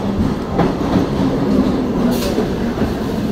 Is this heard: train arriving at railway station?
yes